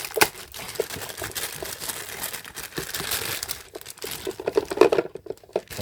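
A plastic bag crinkles and rustles up close as a white GoPro camera is unpacked, with irregular crackling bursts and handling noises and no voices.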